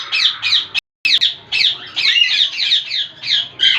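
Breeder pet birds kept in pairs in a cage squawk loudly and harshly up close, with repeated raspy calls tumbling over one another and one brief gap of silence.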